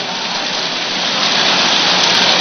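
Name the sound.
rain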